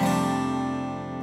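An electric guitar in DADGAD tuning plays a power chord with its top three open strings ringing out, one steady, full chord sustaining and slowly fading across the clip.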